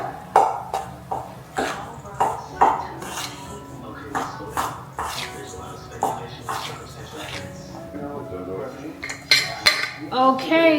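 Packed brown sugar for a copycat Cinnabon cinnamon roll filling is being mixed in a bowl. A utensil knocks and scrapes against the bowl in repeated, uneven clinks, with some voice in the background.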